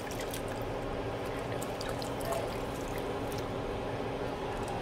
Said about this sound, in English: So I add the water.